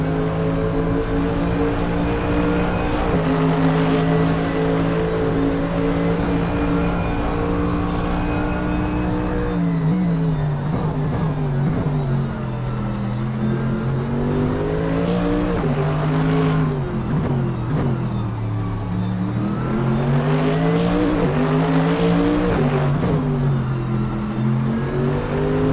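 Mercedes and Porsche GT3 race cars battle at Long Beach, engines droning loud and steady throughout, pitch sweeping down and back up through the left-right section as they brake and accelerate together.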